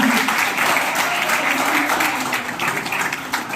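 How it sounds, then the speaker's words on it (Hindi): An audience at an IAS academy's foundation day ceremony claps together in a dense, sustained burst of applause, with faint voices mixed underneath. "जोरदार तालियां बजाकर आज के दिन की शुरुआत कीजिए।"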